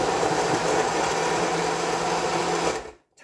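A small handheld stick blender whirs steadily as it mixes, a loud close buzzing motor that runs without a break for about three seconds and then cuts off abruptly.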